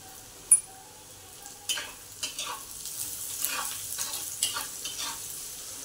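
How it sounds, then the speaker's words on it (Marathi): Sliced onion frying in a pan with a pinch of salt, a soft steady sizzle broken by a sharp scrape at the start and a run of spoon stirs and scrapes, close and moderately loud, no voices. "कांदा आता कांदा परतताना आपण थोडं मीठ घालून घेऊ।"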